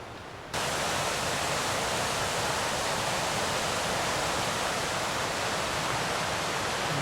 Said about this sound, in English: Raging river.